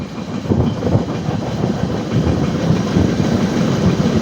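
A passenger train on the Kollam to Coimbatore line runs past large mountain ranges in misty, rainy weather, giving a steady close rumble with continuous wheel clatter and no voices.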